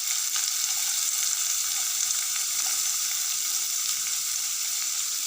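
Chopped green chilies and onions fry in hot oil for pudina rice with a dense, steady hiss and faint crackle throughout, near and with no talking.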